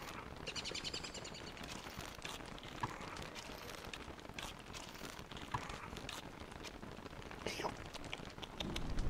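Rain falls in the survival video game Don't Starve as a faint, continuous soft patter, with scattered chirping bird-like calls over it and a slight swell near the end.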